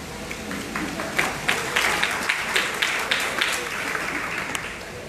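Audience clapping at a Hindi-language BAMCEF lecture, a scattered burst of hand claps rising and fading over a few seconds amid room noise.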